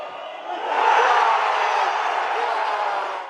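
Vibonese football supporters celebrate their club's promotion to Serie C, a broad crowd roar that swells after half a second and holds steady at full volume to the end.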